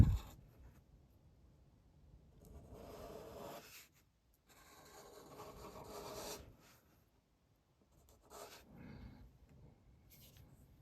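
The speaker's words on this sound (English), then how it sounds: "come to about right here and draw an ear" A pencil sketching a reindeer on paper, with three stretches of soft scratchy rubbing strokes separated by brief pauses, close and quiet.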